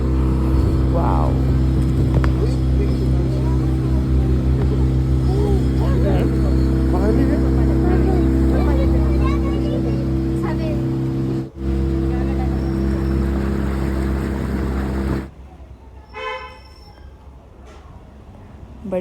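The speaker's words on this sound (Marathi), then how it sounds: "बोट चालू झाली." A motorboat engine drones steadily and loudly on a boating outing in Bird Valley garden, a constant close rumble that cuts off abruptly near the end, with voices talking over it.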